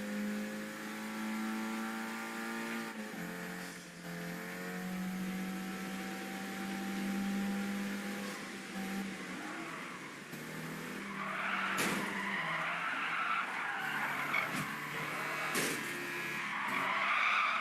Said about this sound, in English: A little loud car again.